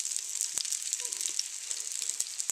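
Hot and Spicy Tabasco Spam frying in a pan, a constant bright crackling sizzle with scattered sharp pops, close and alone without voices.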